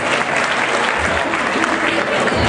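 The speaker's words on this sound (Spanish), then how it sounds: "Y un fuerte aplauso también para los alumnos de segundo polimodal" Audience applause fills a hall at a volunteer fire brigade's 15th anniversary celebration in Juan Bautista Alberdi, a steady dense clapping that holds loud and even throughout without breaks.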